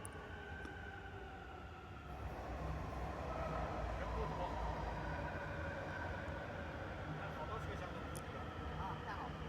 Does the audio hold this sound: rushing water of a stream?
no